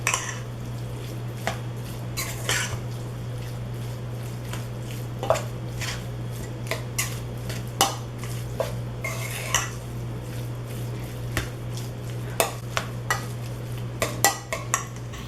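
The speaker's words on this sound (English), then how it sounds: "I'm going to go ahead and mix that in." Hot sausage meat mixture for low-carb sausage balls is stirred in a bowl, with steady squishing and scraping plus frequent sharp clinks of utensil against the bowl, close and continuous over a low hum.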